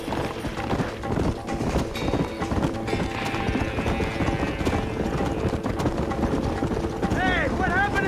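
Horses gallop in Red Dead Redemption, a steady, rapid clip-clop of hooves over a rumbling engine-like drone, with in-game voices and a few sharp whistling effects near the end.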